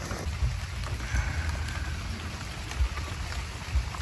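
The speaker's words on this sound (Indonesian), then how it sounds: "Hujan." Rain falls at a mountain campsite on Gunung Bekel, a dense, continuous patter with low rumbling thuds and scattered louder drops, close and fairly loud.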